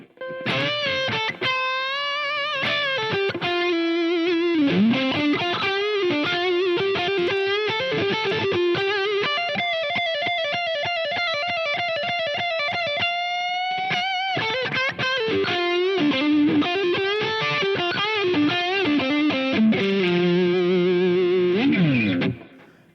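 Electric guitar lead lines with bends and sustained notes, played on a Strat humbucker through a Joyo California pedal with a warm overdriven tone, steady and fairly loud with no voices.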